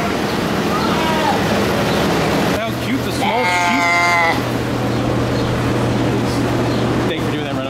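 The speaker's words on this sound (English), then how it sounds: "Can't have a farmyard area without goats." Goats in a zoo farmyard bleat loudly and up close, with a couple of wavering calls, while people talk nearby over a constant low mechanical hum.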